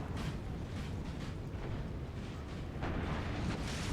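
Artillery fire in a Napoleon Total War multiplayer battle set in a Russian winter, heard as a dense, continuous rumble of cannon booms and bursts with a slightly louder swell near the end and no talking.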